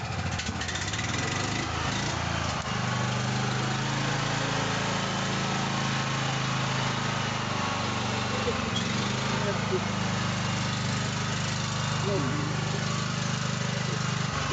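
A mini tractor's engine runs steadily with its rear tilling attachment fitted, a close, continuous droning mechanical rumble that stays loud and even throughout.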